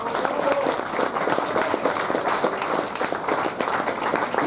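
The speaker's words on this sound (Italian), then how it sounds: "perciò io farei un applauso a chi lo permette" An audience applauds at an indoor talk in Venice, a steady, even patter of many hands clapping that keeps going throughout.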